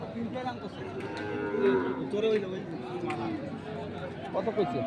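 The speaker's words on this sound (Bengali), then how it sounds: "আমরা দেখছি আজকে আমবাড়িহাটে যে গরুগুলো কিনছেন আলম ভাই" Cattle moo repeatedly at a busy cattle market, several drawn-out lowing calls rising over a constant murmur of crowd talk and bargaining voices nearby.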